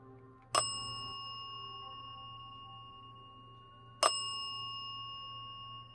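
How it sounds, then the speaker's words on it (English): A bell rings twice, each a sharp single ding with a long ringing decay, spaced several seconds apart over a quiet background hum. "Can you ring the bell twice?"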